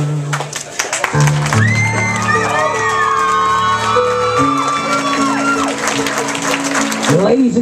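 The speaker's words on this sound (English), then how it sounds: "keep your applause going, Mr. and Mrs. Timothy Coakley" Wedding guests at a Wachusett Village Inn reception applaud, cheer and whoop as a crowd, a steady wash of clapping that continues over sustained music for several seconds.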